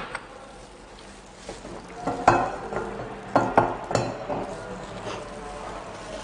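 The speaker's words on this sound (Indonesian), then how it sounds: "langsung kita tumis bersama-sama bawang putih dan bawang merah." Garlic and shallots stir-fried in salad oil in a warmed wok or nonstick pan, with a soft steady sizzle and several louder scraping, clinking stirs of a utensil against the pan.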